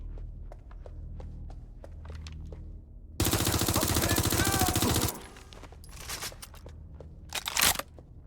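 Automatic gunfire in the video game Watch Dogs: Legion: a dense, loud sustained burst lasting about two seconds, framed by sparse scattered shots, footstep-like crunches and a short sharp blast near the end.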